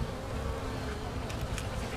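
Purebred Carniolan breeding honey bees buzz steadily at the hive just after winter, a dense close hum with no voices.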